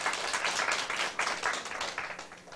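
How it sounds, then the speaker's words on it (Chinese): An audience claps in a steady, fairly loud burst of applause at a Taiwan civil government legal studies seminar, many hands overlapping for a couple of seconds. "掌声鼓励一下"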